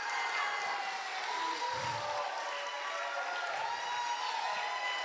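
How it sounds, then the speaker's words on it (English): A Sunday celebration service congregation keeps up steady, dense clapping with faint cheering mixed in, while sustained musical tones hum beneath the crowd noise. "how about a round of applause for me?"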